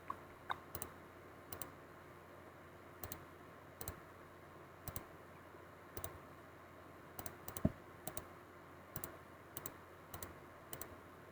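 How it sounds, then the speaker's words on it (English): Sparse, crisp keystrokes on a computer keyboard while a geometric series formula is entered into Desmos, arriving in small clusters and single taps with gaps between, close and alone over faint room hum. "Or we can just type it into Desmos."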